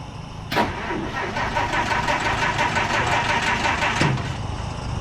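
An old car engine, a '52 Deuce with a suspect fuel pump, cranks with a sharp onset, then runs close and loud at a steady clattering idle that eases off near the end.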